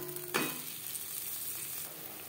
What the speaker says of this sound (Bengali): তেজপাতা জিরে ভেজে নেওয়ার পর দিয়ে দেবো মশলা।